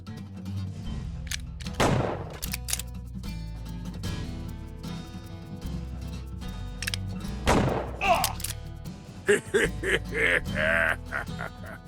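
Gunfire in the video game Blood will be Spilled cracks out in a few loud, scattered shots and bursts over a steady game music backdrop, with some chirpy effects near the end.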